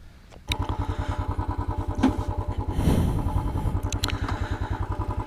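Royal Enfield motorcycle engine starting and idling, an abrupt catch followed by a near, loud, even thumping beat with a brief swell in revs midway and some mechanical clatter.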